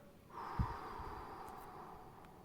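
One long, slow exhale through the mouth during a calming breathing exercise for an anxiety attack, a soft, close breathy rush that starts after a brief pause and fades gradually.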